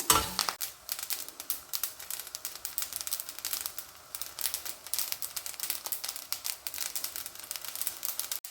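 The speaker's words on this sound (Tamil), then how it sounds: "இதை அப்படியே எடுத்து ஒரு தட்டில் கொட்டி ஆற வச்சுருவோம்" A roasted curry leaf mixture for Andhra-style pickle is poured from a pan onto a plate, giving a steady, faint, close rustle of dry crinkly leaves with small clustered clicks and scrapes, and no voices.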